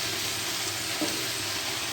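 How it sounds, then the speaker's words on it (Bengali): Fish frying in a pan with a dense, steady sizzle close by, plus a faint brief clink partway through. "তোমার এইদিকে মাছগুলো সব ভাজা হয়ে গেল"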